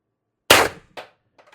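A 4x12g CO2 air gun fires a single test shot, a sharp loud pop with a short decay, followed by a fainter secondary report and a few small clicks.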